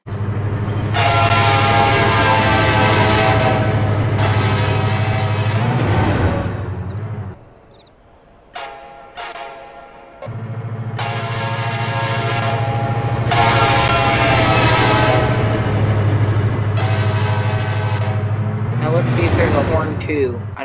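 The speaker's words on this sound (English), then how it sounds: "I'll turn up the volume so you can listen to this horn" A loud, sustained Tri-Rail train horn in a Roblox video game blares in long blasts, breaks off briefly, then sounds again and holds, with rumbling rail noise beneath.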